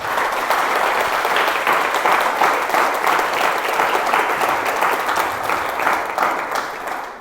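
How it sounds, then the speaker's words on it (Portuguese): A church congregation claps loudly and vigorously during a sermon, a dense, sustained wall of applause lasting over seven seconds without letting up. "aplauda o Senhor com força"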